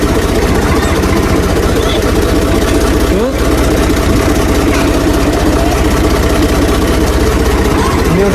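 A vehicle engine idles steadily right after starting, a loud continuous low rumble throughout with a brief dip near the middle, and voices faintly underneath.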